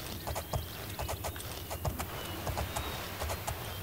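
Steady horse hoofbeats in the video game Oblivion clip-clop in a quick rhythm over a constant low background rumble, moderately loud and continuous throughout.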